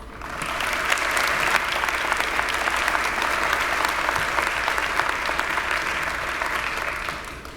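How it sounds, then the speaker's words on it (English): A large audience at a high school commencement ceremony applauds in a sustained roar of many hands, filling a big hall for several seconds before it fades out. "a round of applause"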